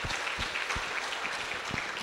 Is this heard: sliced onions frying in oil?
no